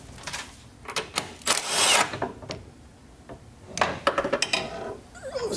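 Front sway bar being pulled out of a BMW E36 M3 during a suspension job, giving close scraping and rubbing clunks of metal against the chassis in several bursts with short pauses.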